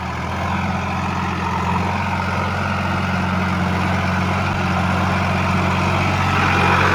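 A Sonalika Sikander DI 35 tractor hauls a trolley loaded with 108 sacks of potatoes up a steep climb, its heavy diesel engine droning loud and steady, close by, throughout with no talk.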